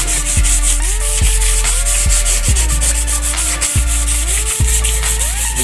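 An electric sanding machine works over galvanized sheet metal for a fence, a steady, loud abrasive whir with a motor pitch that dips and recovers in repeated strokes as pressure changes.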